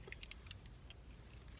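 Two keychains jangling, one carrying a car fob, car keys and house keys; a few quiet, brief metallic clinks scattered across the moment over a low background rumble.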